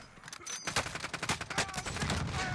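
Rapid gunfire in Call of Duty: Warzone as a player shoots at placed C4, a dense burst of closely spaced shots forming a fast, loud rattling volley that carries on without pause.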